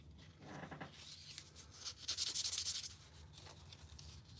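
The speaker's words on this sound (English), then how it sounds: "it's going to require a lot more time with sand and getting all these little scratches out of it" Sandpaper is rubbed by hand over a smooth Emberling tobacco pipe to remove scratches, giving soft, repeated scratchy strokes in uneven bursts, close and fairly quiet.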